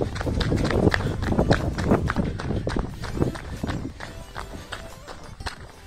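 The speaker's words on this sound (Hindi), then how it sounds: "आप मेरे पैर की आवाज़ सुनते रहें।" A person runs fast, feet striking in a quick regular patter of thuds that are louder at first and fade slightly toward the end.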